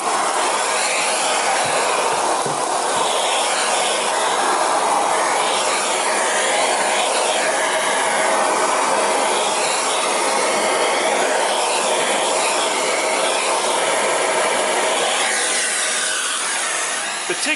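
A Miele C3 Marin canister vacuum cleaner runs continuously with a loud, close, airy whoosh and motor hum, holding steady throughout without pauses.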